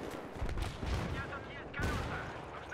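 Grenade blasts and gunfire in Battlefield 3 multiplayer, heard as faint, dense, rumbling explosions and crackling shots that run continuously and swell in several surges over a few seconds.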